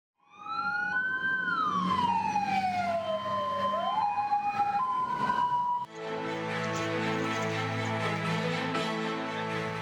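Ambulance sirens wail loudly, one sweeping tone rising and falling, then a cluster of overlapping steady siren tones blaring together, close by and continuous.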